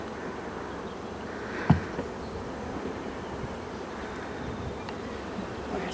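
Honeybees at a struggling queenless hive make a steady, dense buzzing drone up close, with one brief louder knock partway through and no voices.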